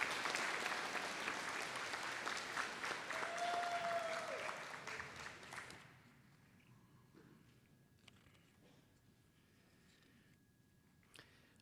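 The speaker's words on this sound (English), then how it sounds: "let's give another big round of applause to Grace, Kijan, and Julius." A graduation commencement audience claps in sustained broad applause that fades away about halfway through, leaving quiet room ambience with a few scattered claps afterward.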